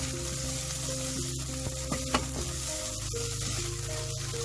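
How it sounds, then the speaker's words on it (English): Eggplants and onions fry in cooking oil, giving a dense, steady sizzle alongside occasional stirring scrapes and a sharp utensil knock partway through. No voices are heard. "Fry the eggplants until they are all soaked in cooking oil and a bit soft. Then you can now add the onions and fry for about a minute."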